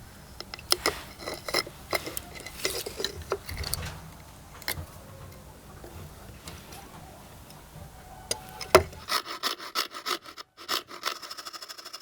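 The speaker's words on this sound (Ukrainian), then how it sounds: "Заводимо спіральну пилку по дереву і вирізаємо по лінії." Rapid rasping strokes of a small spiral wood saw cutting along a line through hard laminate board, uneven in rhythm and fairly close, ending in a series of quicker scraping ticks.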